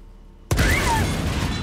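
Grenade blast in an online shooter game: a sudden loud broadband burst after half a second of quiet, followed by a sustained rumbling roar with debris-like crackle and a faint whistling tone sweeping downward.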